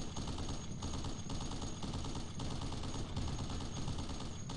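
Gunfire in the military shooter Project Reality rattles in a steady stream of automatic bursts, loud and continuous, with a faint high whine running under it.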